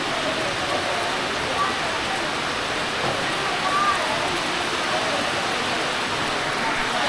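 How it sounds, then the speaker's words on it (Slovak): Heavy tropical rain pours steadily in Krabi, a dense, even hiss of downpour filling the space close by with no break, with no one talking. "Trošku sa nám rozpršalo, trošku dosť"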